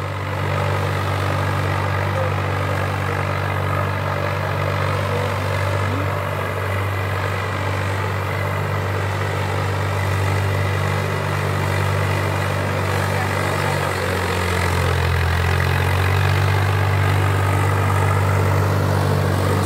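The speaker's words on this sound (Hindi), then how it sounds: "आपने ट्रैक्टर को चला के दिखाया" A Swaraj 744 FE tractor, a 48 hp model fitted to a 14-disc harrow, runs steadily at idle, a close, even low diesel rumble that shifts slightly in pitch near the end.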